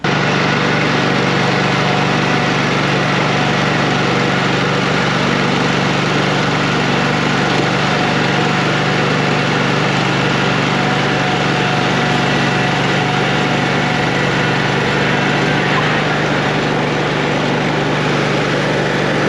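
A string trimmer runs during trimming work, a loud, steady, buzzing small-engine drone that holds at an even level from start to finish with no talking over it.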